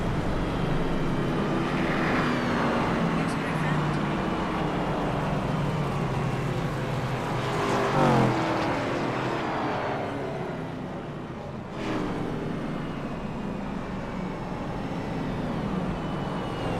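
Race cars in a video game run in a pack behind a pace car, giving a steady, moderate, continuous engine drone with faint swells and no speech.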